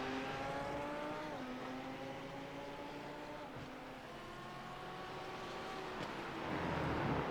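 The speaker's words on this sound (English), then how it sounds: "The 2 Porsches going at it with Chris White in the Copperberg Lamborghini." Porsche and Lamborghini race cars circle a track together, their engines whining in layered, shifting tones that rise and fall as they pass at moderate distance, with no commentary over them.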